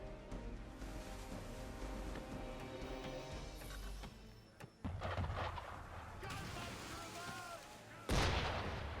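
Musket and gunfire in the colonial-era game Assassin's Creed III: several sharp shots and bursts over busy background sound, ending with a louder blast near the close, while voices talk beneath.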